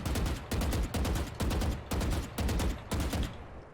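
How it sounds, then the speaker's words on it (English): Rapid bursts of automatic gunfire in the VALORANT shooting range, six tight volleys of several shots each separated by brief pauses, loud and close with no talking. "if you start shooting 4 bullets and then start shooting too quickly after the 4th bullet"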